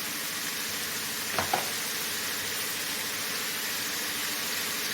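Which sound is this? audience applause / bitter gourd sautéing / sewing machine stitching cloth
bitter gourd sautéing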